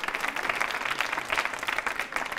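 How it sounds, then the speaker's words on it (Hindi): A hospital quiz show audience gives a dense burst of clapping, loud and sustained throughout with no voices over it. "तालियां बजाइए आपके लिए, जोरदार तालियां बजाइए।"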